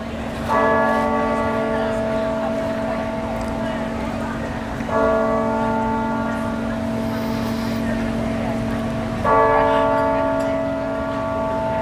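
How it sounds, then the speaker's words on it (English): Lincoln Cathedral bells strike 4 p.m., with three loud, resonant strokes about four seconds apart, each ringing on and overlapping the last, while people talk faintly in the background. "The cathedral bells have just informed us that it is 4 p.m."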